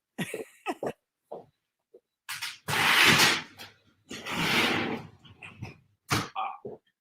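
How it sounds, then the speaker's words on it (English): A screen door being shut at close range gives a few short knocks and two longer broadband rushes of rattling, scraping noise, with quiet gaps between them. "Let me shut my screen door."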